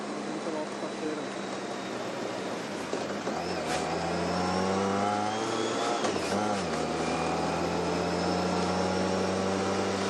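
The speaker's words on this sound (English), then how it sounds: "The car actually moving towards the one of the groups." A car drives alongside a professional road cycling race, its engine a steady, continuous drone with a rising and falling pitch, heard amid constant wind and background noise.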